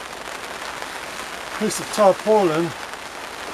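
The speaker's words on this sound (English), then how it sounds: "The rain is coming down so hard." Heavy rain falls outdoors on an allotment, a steady, dense hiss that runs through the whole scene. Someone speaks briefly over it.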